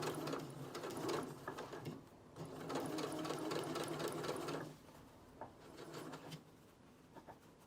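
Sewing machine stitching a side seam on a dress during binding work, a steady close mechanical whir running in two bursts with a brief pause, then quieter handling noises and a few light clicks.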